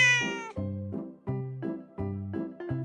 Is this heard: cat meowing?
yes